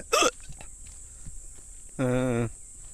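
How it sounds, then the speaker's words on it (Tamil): Two brief hiccup-like voiced bursts stand apart, one sharp and high at the start, a longer one later, amid faint shuffling and background hiss. "எனக்கு விக்கல் வேற எடுத்துட்டு இருக்குங்க"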